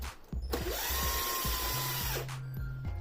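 A small power driver unscrews screws from the bottom plates of a Traxxas UDR radio-controlled truck, whirring in one sustained burst of about two seconds with faint clicks before and after.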